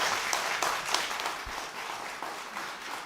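A debate audience applauds, a fairly quiet, steady patter of many hands clapping that carries through the whole stretch without pause.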